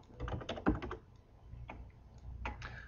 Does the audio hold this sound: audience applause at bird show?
no